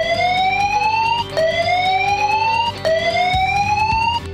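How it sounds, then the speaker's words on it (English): A foundry building evacuation alarm sounds loud and close. It repeats a rising electronic whoop about every second and a half with no gaps. "In the case of a fire or other emergency that requires evacuating the building, you will hear this alarm"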